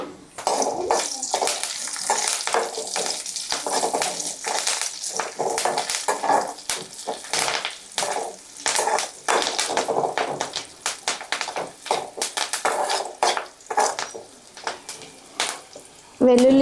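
Crushed garlic cloves frying in a pan while making Maggi, a steady close sizzle with clatter and stirring scrapes throughout, loud and continuous with brief gaps.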